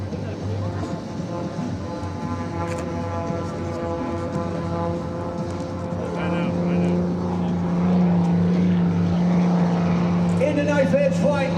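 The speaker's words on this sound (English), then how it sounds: "get ready for a rock and roll performance by Mr. Skip Stewart and the aircraft he calls Prometheus" Prometheus, a propeller aerobatic aircraft flown at the 2025 Wings Over South Texas Air Show, gives off a steady, droning engine hum that grows slightly louder partway through, with an announcer speaking over it throughout.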